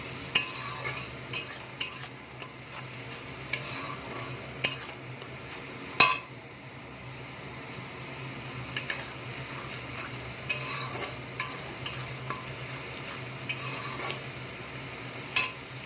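Onion paste stirred in a pan for a chicken kofta curry, with a soft steady sizzle and regular clinks and scrapes of a spatula against metal, close by and unaccompanied by speech.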